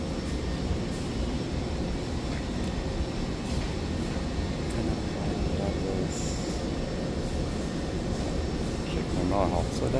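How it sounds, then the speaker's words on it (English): A Taipei metro train waits at a station, idling with a low, constant rumble and hum, punctuated by faint clanks and squeaks, while people talk quietly nearby. "So that's the train."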